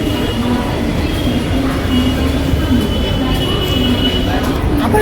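A crowded local train at Ghatkopar station rumbles loudly and continuously with rolling wheel noise and faint metallic squeal, a dense crowd murmur and voices mixed into the steady roar.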